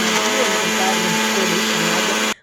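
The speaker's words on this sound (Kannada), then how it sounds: "ಈ ಕಡೆ ಒಂದು ಮಿಕ್ಸಿ ಜಾರ್ಗೆ ನಾವು ಏನು ಕುದಿಸ್ಕೊಂಡಿರ್ತೀವಿ ಅದನ್ನು" A kitchen mixer grinder blends boiled kebab ingredients into a fine red paste with a loud, steady motor whir that runs throughout and cuts off abruptly at the end.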